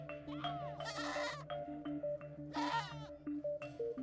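Goats bleat in a rural African farming setting, several wavering cries in repeated bursts from different animals, fairly close, over a background of steady tones.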